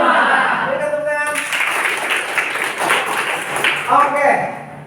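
A classroom audience of students claps together during a teaching session, producing a steady wash of applause for a few seconds with a voice speaking at the start and end.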